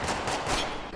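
A burst of gunfire in the shooter game Spec Ops The Line, a short rapid volley of shots heard at moderate distance with no talk.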